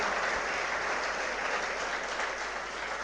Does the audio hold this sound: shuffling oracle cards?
no